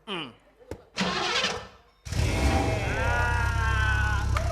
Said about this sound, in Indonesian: Ini motor hidup tanpa kunci, Pak.